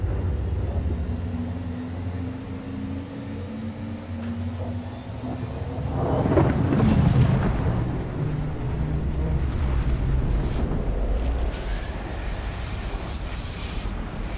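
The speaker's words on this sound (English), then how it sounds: "Quantum travel engaged." A spacecraft's quantum travel drive in Star Citizen spools up, a broad engine roar and whoosh that swells and builds to a peak, then settles into a steady rushing drone, no voices over it.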